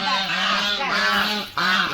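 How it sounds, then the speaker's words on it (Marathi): Domestic ducks or geese on a farm give loud, continuous harsh honking calls close by, several birds overlapping across the whole stretch with a brief dip near the end. "हे बघा, इकडं बदकं आहे,"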